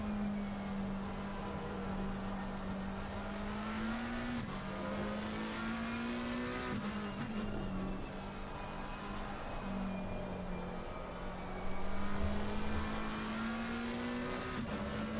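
A McLaren GT3 race car onboard at the Hungaroring in a racing game: a loud, steady engine drone holds high revs throughout, with brief dips and quick upshifts around the lap.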